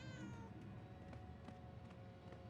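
A cat meows in the Murdered: Soul Suspect video game, a faint cry early on that fades into low ambient game music and soft scattered taps.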